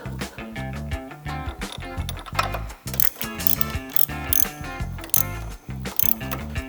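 A ratchet clicks in quick bursts while bolts are tightened on a crash bar for a Harley Softail, close up, with short pauses between runs of pawl clicks.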